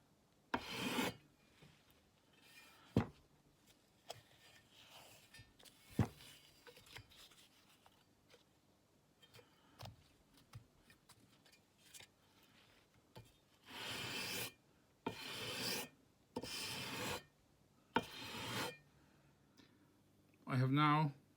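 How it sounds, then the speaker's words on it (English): Sanding block rubbed across guitar frets in fretwork, a series of short rasping strokes in bursts with pauses between, close and fairly loud, with a person talking in the gaps. "I have now touched all threads with my sanding block"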